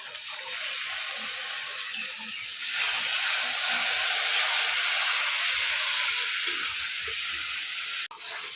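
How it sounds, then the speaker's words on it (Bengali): Water poured onto sizzling spice paste in a pan while cooking Bengali mutton curry, giving a loud, steady hiss of steam and spitting that swells after a few seconds and holds, with a brief clink near the end. "মশলাতে অল্প একটু জল দেবো।"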